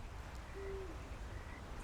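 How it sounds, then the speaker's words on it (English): A single short, low owl hoot sounds faintly and at a distance in the video game Red Dead Redemption 2, set against a steady low ambient background. "You hear that? Is that an animal? Like an owl, maybe?"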